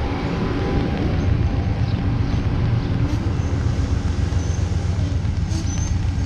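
Low, steady rumble of an Amtrak passenger train passing a station in Old Orchard Beach, Maine, with wind buffeting the microphone, continuous rolling noise and faint high squeals.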